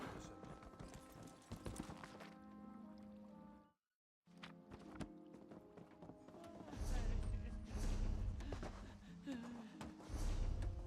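Horse hooves galloping in Elder Scrolls Online, quick rhythmic clip-clop amid game music and ambience, cut by a short silent gap, then louder hoofbeats with a low rumble.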